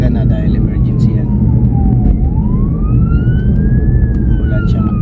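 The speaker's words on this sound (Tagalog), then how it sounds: "Ambulansya nga." An ambulance siren wails along the road, its tone sliding down and then back up over loud, close traffic rumble. No one speaks.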